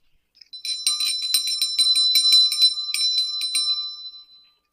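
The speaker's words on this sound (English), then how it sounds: "I'm going to ring a bell." A small handheld bell rung repeatedly in a rapid, bright jingling run for several seconds, loud and close, ringing alone without any voices.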